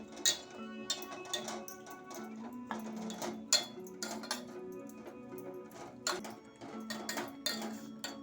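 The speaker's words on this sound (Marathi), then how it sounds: "हे आता चांगलं ढवळून घेऊया आपण हे बघा गूळ आणि किस एक जीव होण्यासाठी आता ढवळत राहावं लागेल" Jaggery and grated raw mango being stirred in a pan over medium heat, irregular clinks and scrapes of a spoon against the metal pan, faint and close.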